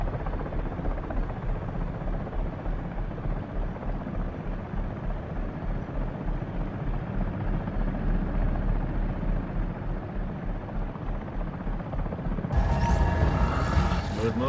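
A Comanche helicopter in a VR flight game hums with a continuous, fairly loud rotor and engine drone that shifts abruptly near the end.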